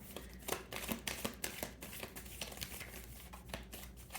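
Tarot cards are shuffled close up in quick, rhythmic riffling bursts of papery flutter and soft slaps, fairly quiet, with no talking.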